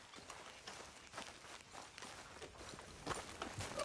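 Horse hooves clip-clop in a steady trot in Red Dead Redemption 2, faint rhythmic beats on the ground that grow slightly louder toward the end.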